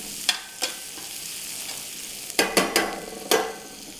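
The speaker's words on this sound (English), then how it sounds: "The liquid that the shallots give off and the garlic gives off will cool down the pan a little bit so this bacon doesn't get too caramelized." Bacon with garlic and shallots cooking in a pan for green beans, a soft steady sizzle broken by several sharp utensil scrapes and stirring clacks, no talking.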